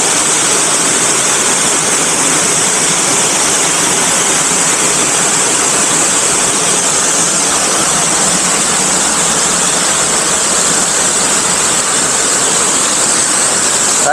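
A waterfall on an island in Ontario, Canada roars in a loud, steady, unbroken rush of falling water, close and continuous with no other sounds.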